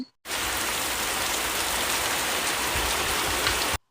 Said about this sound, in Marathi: पाऊस पडताना पावसाचा जो आवाज येतो